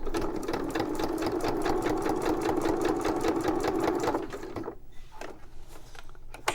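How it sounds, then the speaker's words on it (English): A sewing machine runs a straight stitch along fabric tags, a close steady rapid mechanical chatter that continues for several seconds before stopping, leaving faint handling clicks. "I'm going to do straight stitch the rest of the way."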